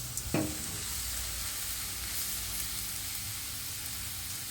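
Mustard seeds, chillies, curry leaves and urad dal are stirred in a hot frying pan for a jackfruit thoran, a continuous close sizzle and hiss with a brief utensil scrape at the start.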